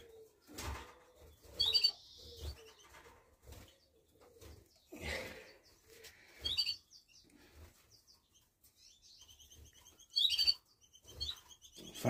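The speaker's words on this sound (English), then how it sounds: "Here I have four goldfinch mules." Caged goldfinch mules give short bright chirps and twittering calls in scattered bursts, fairly close but quiet, with soft rustling and fluttering between calls.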